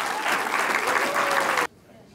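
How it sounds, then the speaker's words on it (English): Audience applause at a startup weekend final presentations event, a dense steady clapping crowd filling the room for about a second and a half before cutting off abruptly. "Let's give her a round of applause."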